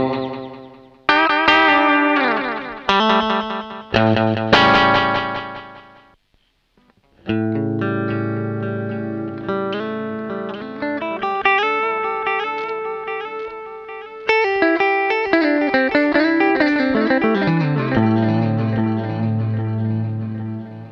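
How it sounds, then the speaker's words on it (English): An electric guitar runs through a Danelectro Food Series delay pedal on a short slapback setting, playing clear, loud chords and then melodic runs, each note closely doubled by quick repeats, with a brief gap early on. "So you can kind of do some more ambient delays, or you've got your sort of country,"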